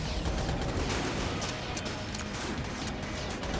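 The Void Core Cannon boss fires gilded shots in Enter the Gungeon: a dense, continuous barrage of crackling impacts and bursts, loud and chaotic throughout, with no talking.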